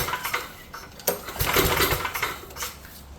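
Starter rope pulled on an old, long-abandoned Powerback GT5250 generator with an oily, fuel-soaked motor, giving a few rough, scraping pull-and-rattle bursts close by with no engine catching.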